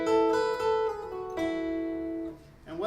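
Acoustic guitar playing the closing flourish of a song, a few ringing plucked notes sustaining and fading alone, close and moderately loud.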